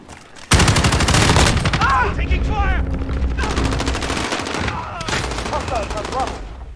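Loud, rapid machine-gun bursts in a video game, sustained automatic fire with short gaps between bursts, mixed with game voice chatter and other battle effects.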